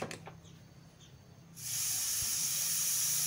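A pressure cooker cooking dahi (yogurt) chicken on a gas stove suddenly vents steam, a loud, steady, close hiss that starts partway through and continues without a break.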